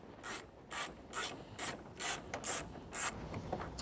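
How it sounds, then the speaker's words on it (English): A 10mm socket ratchet loosens the radio bolts in a 2014-2019 Toyota Tundra dash, giving a quick series of raspy clicking bursts in a regular back-and-forth rhythm, close and fairly quiet with no talk. "we're going to go ahead and reach in with a 10mm socket, and there's 2 bolts"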